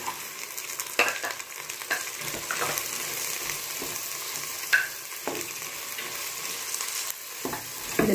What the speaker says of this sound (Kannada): ಇದನ್ನು ಸ್ವಲ್ಪ ಆಯಿಲೆಲ್ಲ ಚೆನ್ನಾಗಿ ಈ ಥರ ಫ್ರೈ ಮಾಡ್ಕೊಳ್ಳಿ.